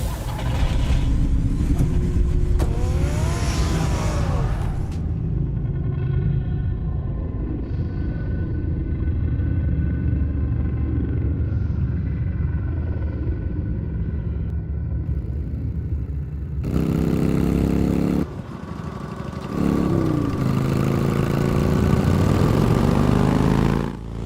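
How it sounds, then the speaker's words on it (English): The Batmobile engine in a Batman video game on Nintendo Switch gives a loud, continuous rumbling roar, with pitch-sweeping revs near the start and again near the end. "Get the car ready, Alfred."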